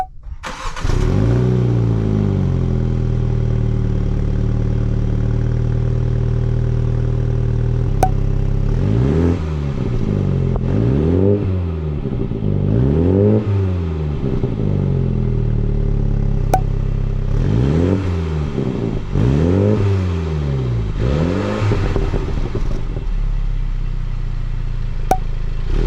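Stock exhaust on a Mini Cooper revving outdoors: a loud, steady idle broken by a series of sharp throttle blips that rise and fall in pitch, five or six rapid revs in two clusters, with no voices.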